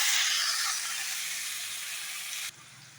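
Tomatoes hit hot oil with sautéed onions in a pan, setting off a loud, bright sizzle that hisses steadily and fades slightly before cutting abruptly to a quieter hiss near the end.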